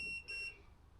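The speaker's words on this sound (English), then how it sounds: "Collision alarm." Collision alarm beeping from Garmin marine display screens aboard a boat, two short bright tonal beeps in quick succession, loud and close, with no talking.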